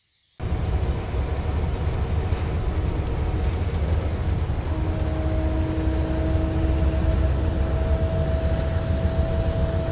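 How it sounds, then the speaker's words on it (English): Inside a bus travelling to Vitré, France, a steady engine and road rumble fills the cabin, with a faint tonal whine rising partway through and no talk. "So here I am on the bus."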